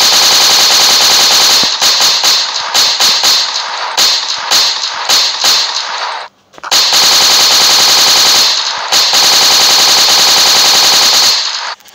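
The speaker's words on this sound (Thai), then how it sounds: "ผมชอบเสียง AK มาก" AK rifle gunfire, loud and close, with rapid bursts of sharp automatic shots, a brief pause, then long sustained fully automatic strings of fire.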